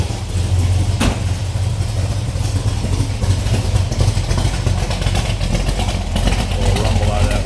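A 1969 Plymouth Satellite with a 440 V8 idles close by, giving a steady, deep, continuous rumble that holds even throughout.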